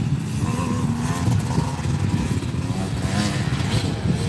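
Yamaha YZ250 motocross bike ridden at a motocross school track, its engine droning and buzzing continuously at close range with slight throttle swells and no pauses.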